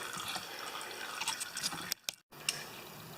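Engine oil drains out of a Troy Bilt Horse garden tiller, running as a steady trickling, dripping pour with a brief break, close and moderately quiet, no talking.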